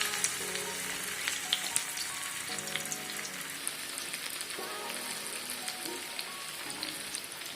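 Arati puvvu vada dumplings frying in hot oil, a continuous fine crackling sizzle with scattered pops, close and fairly soft.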